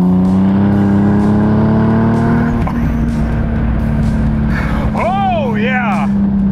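A powerful turbocharged sports car engine drones loudly at a steady pitch, then revs up and down in sharp bursts, close and dominant.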